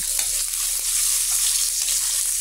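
Garlic sautés in a pan for pinakbet, a loud, steady bright sizzle with light stirring scrapes underneath, close and without any voices.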